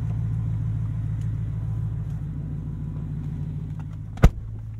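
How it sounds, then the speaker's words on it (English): A 2023 Ford F-150 Raptor R idles with a deep, thunderous, steady rumble close by, ending in one sharp clunk near the end. "That's quite a thunderous idle that may disturb your neighborhood"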